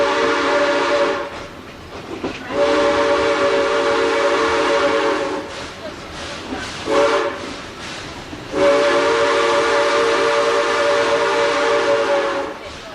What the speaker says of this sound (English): The train is now coming into a clearing.